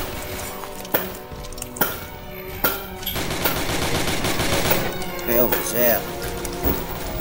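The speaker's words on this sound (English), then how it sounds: "Machine gun." Rapid machine gun bursts in a shooting video game, sharp repeated cracks mixed with crackling game noise and music, with voices talking over it.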